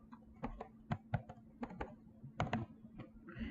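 Computer keyboard keys tapped while entering a zip code into a search bar, a quick irregular run of light clicks, close but quiet, over a faint steady hum.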